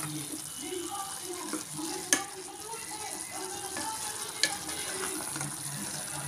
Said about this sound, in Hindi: तो तेल में ऐसे ही भुनने देंगे थोड़ी देर।